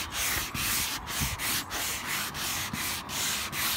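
A sanding block rubs back and forth across wood coated in wet General Finishes black glaze for a barnwood finish, giving about eight steady, loud, close strokes with a brief pause between each and no voices.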